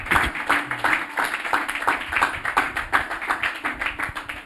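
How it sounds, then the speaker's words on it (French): A church congregation applauding to acclaim the Lord, a steady run of brisk rhythmic hand claps from many people in a room, close and lively, with no talk. "Est-ce qu'on peut encore acclamer le Seigneur?"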